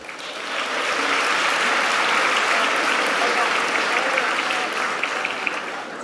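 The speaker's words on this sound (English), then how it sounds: "I want you to give yourselves a great round of applause." An audience at an evening event with a congresswoman bursts into sustained applause, dense clapping that swells quickly and holds steady for several seconds.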